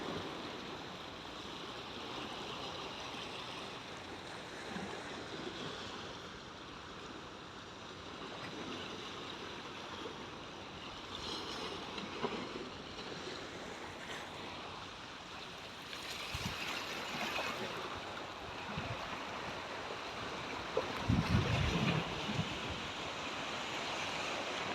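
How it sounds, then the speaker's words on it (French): Gentle sea waves wash continuously against the shore in the Mediterranean garrigue, a soft, steady rush that swells now and then, with light wind and no voices. "on écoute juste le bruit des vagues"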